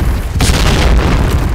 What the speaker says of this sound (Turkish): Ayağıma bomba attı.